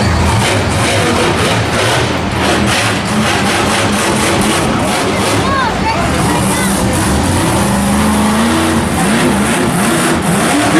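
The War Wizard monster truck revs its engine at Monster Jam in Anaheim, a loud continuous roar with rising and falling pitch under constant arena noise and an announcer's voice.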